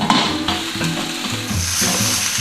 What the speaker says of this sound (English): So this is going to sear right here.